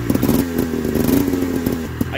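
A motorcycle engine runs close by after its carburetor has been cleaned, with a steady rumbling idle, a few short throttle blips, and a voice speaking over it.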